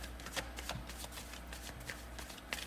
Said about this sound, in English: Normally, I'm already shuffling during the reading